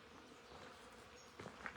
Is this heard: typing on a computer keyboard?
no